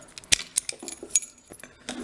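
A bunch of keys jangles and clinks in a series of sharp, irregular metallic rattles close by, with no talking.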